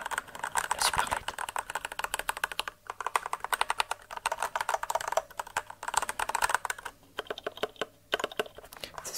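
Dense, rapid keystrokes on a gaming computer keyboard, close and crisp, with brief pauses around three and eight seconds before the clicking resumes.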